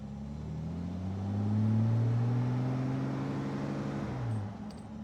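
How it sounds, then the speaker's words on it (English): Engine of a 1963 Austin Healey 3000 BJ7 with a five-speed gearbox and fast road spec, pulling steadily from low revs as the note rises smoothly then eases off, heard from inside the car with no talk. "I'm really impressed with the tractability of the engine."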